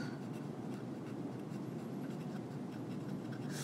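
Faint scratchy strokes of writing on a board during a biology lecture on metabolism, short rubbing marks repeating irregularly over a steady low room hum, with no talking.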